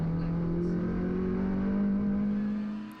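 A Nissan Micra rally car on the Cadwell Park circuit accelerates, its engine note rising steadily in pitch over a few seconds and then fading at the end, with no talk.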